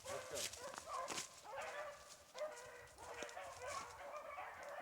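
A pack of hunting dogs bays outdoors on a rabbit chase, with repeated overlapping yelps and howls rising and falling at a moderate distance, steady through the whole stretch.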